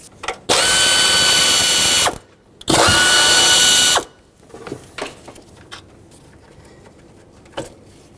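Power tool, an impact driver or ratchet, unbolting a solenoid on a 2011-2016 Ford F-350 with a 6.2L V8, two loud close bursts of rattling buzz lasting about 1.5 seconds each, followed by light clicks and handling noises.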